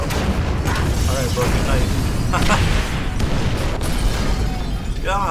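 Bombs detonate in the video game GTA 5, with booming, rumbling blasts and debris bursts layered over continuous in-game background noise while a person talks over them.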